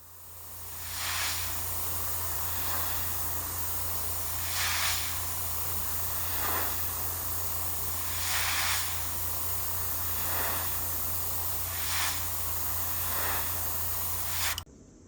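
An airbrush sprays Tamiya X1 gloss paint onto the side molding of a Revell Pontiac Fiero GT model car in several steady hissing bursts, with a constant low hum of a compressor beneath.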